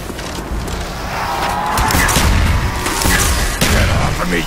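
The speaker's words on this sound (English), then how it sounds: "What I love about explosions is the explosion part!" Explosions in a zombies video game roll in as heavy booming blasts and crackling gunfire, loud and dense throughout, building to a sharp burst near the end.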